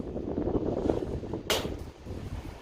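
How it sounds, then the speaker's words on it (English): Gusty wind buffets the microphone with low rumbling throughout, and a sharp broadband whoosh bursts in midway before fading. "Sorry, it's getting quite windy again."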